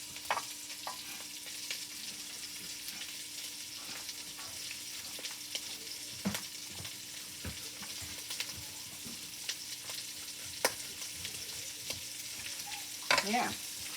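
Onions frying with already browned ground beef in a pan, a quiet, even sizzle with scattered light pops and a brief clatter of stirring near the end.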